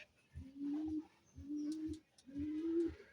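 Raj Golla pigeons, a black-and-white breed, coo in three repeated rolling phrases, close and clear, with short pauses between each call and no talking.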